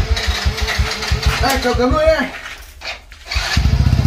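A motorbike engine runs close by with a steady, throbbing low pulse, fading under excited shouting voices and then returning loudly near the end.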